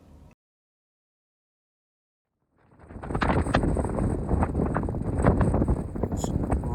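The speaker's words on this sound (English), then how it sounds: "It's really windy today." Strong wind on a summit of the Picos de Europa mountains, heard during a motorcycle trip. After a short stretch of near silence it roars in suddenly and stays loud, a rough gusting rumble buffeting the microphone.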